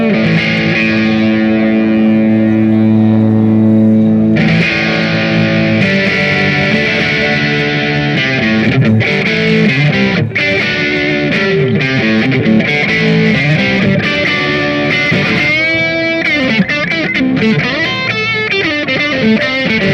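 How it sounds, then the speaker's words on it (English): An electric guitar plays through a Mojo Hand FX boost pedal feeding a distortion pedal, giving a loud, thick, saturated tone with sustained chords and riffs and a tight low end, with no talking. "on that second one we had the distortion going after the boost"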